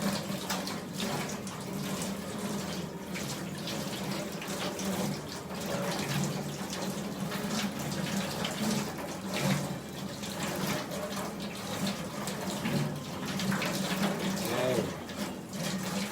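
Kitchen sink tap running steadily over slimy food being rinsed by hand in Okinawa, a continuous moderate splash with soft handling sounds and faint background chatter.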